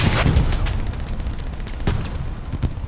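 Tank cannon fire in Hell Let Loose, with a Jumbo 75 crew knocking out a Panzer IV during a 49-versus-49 match: heavy booms punch through a dense, continuous wash of battlefield gunfire, with sharp blasts standing out near the end.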